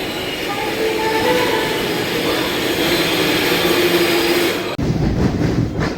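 An express train pulls out of Nellore station, heard from on board as a loud, steady rumble of wheels and carriages with rolling clatter, followed by a sudden shift in the noise near the end.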